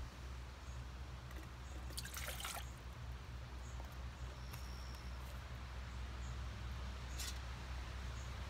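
Water slowly trickling and dripping as it is filtered again through cloth in the woods, a faint continuous trickle with a few brief splashy drips, no speech.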